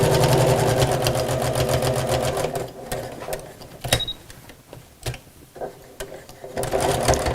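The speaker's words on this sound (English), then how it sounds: "Don't worry about sewing over a nylon zip." A sewing machine stitches over a nylon zip, running fast and steady at first, then slowing to short bursts and clicks before speeding up again.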